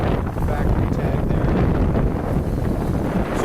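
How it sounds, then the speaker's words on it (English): Heavy wind buffets the microphone with a constant low rumble and roar, loud and close, steady for the whole stretch. "Sorry about such a windy day here."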